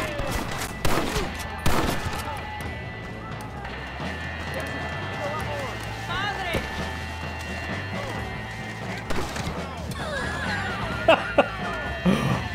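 Gunshots ring out in Red Dead Redemption, a few sharp cracks scattered over a busy Western scene with horses whinnying and hooves clattering, mixed beneath ongoing voices.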